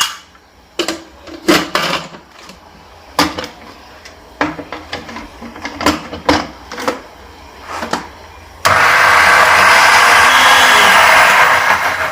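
A kitchen blender purees onion and yogurt, roaring loudly and steadily for the last few seconds after a run of clatters and knocks as it is set up and handled.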